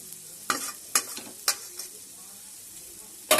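Spice paste for a dried-fish and pumpkin-leaf fritter dish stirred in a hot pan: a few sharp spoon scrapes and stir strokes over a faint, steady sizzle, close by and with no voices.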